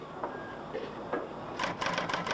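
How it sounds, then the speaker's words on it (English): A typewriter clatters in a sitcom scene, a few scattered key strikes followed by a quicker, louder burst of rapid typing close by. "Surely you've heard the typewriter working before."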